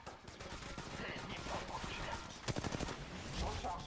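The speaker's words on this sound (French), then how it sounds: "L'ennemi me tire dessus." Enemy gunfire in Apex Legends Mobile, bursts of fairly distant automatic shots with a sharper rapid volley partway through, and a voice speaking over them.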